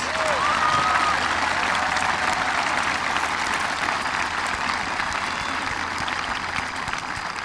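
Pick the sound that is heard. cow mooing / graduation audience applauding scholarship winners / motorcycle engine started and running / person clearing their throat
graduation audience applauding scholarship winners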